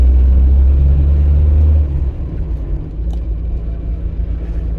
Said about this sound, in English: I really enjoy driving this car.